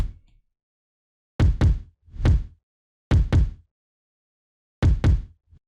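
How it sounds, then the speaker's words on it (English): Reversed kick drum hits in a future bass drop swell up and cut off abruptly, arriving in short paired bursts separated by silence, loud and dry. "I reversed the kick and put it in some places in the drop"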